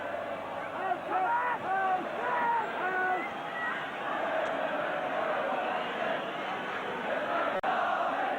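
A football crowd at Anfield stadium for Liverpool against Nottingham Forest sends up a steady, dense roar and chanting that fills the whole stretch, with a commentator's voice over it early on.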